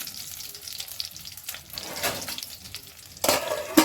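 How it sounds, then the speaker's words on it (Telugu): Stuffed brinjals fry in oil for a Rayalaseema-style curry. A soft, low sizzle runs throughout, with louder spluttering bursts near the middle and the end. "ఎక్కువ కాగనక్కర్లేదు ఎందుకంటే చిటిపట్లాడుతుంది ఒక్కొక్కటిగా వేసుకోవాలి"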